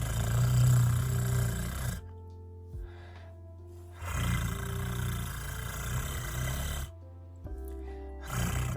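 A human voice imitates a rattlesnake with a long rolled Italian R trill, loud and close, repeated in several sustained bursts separated by short silences.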